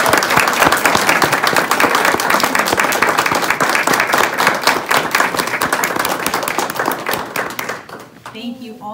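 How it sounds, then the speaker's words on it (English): Audience at a free student string concert in a public library applauds steadily for about eight seconds, a dense wash of clapping that thins and tapers off near the end. "Let's give them another round of applause."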